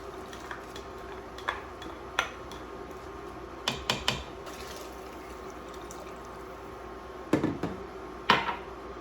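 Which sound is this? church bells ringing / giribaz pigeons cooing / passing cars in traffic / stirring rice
stirring rice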